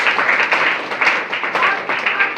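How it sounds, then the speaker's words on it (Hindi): A brief burst of enthusiastic clapping from a gathered audience at a meeting, loud and close, with uneven rhythmic swells across two and a half seconds. "एक बार जोरदार ताली"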